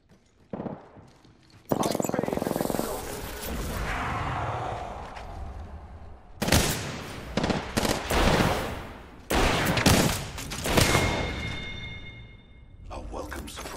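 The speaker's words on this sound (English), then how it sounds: "Getting shot at." Video game gunfire from Apex Legends erupts in loud, sharp bursts separated by quieter gaps, with automatic fire and impacts close by and a voice briefly heard.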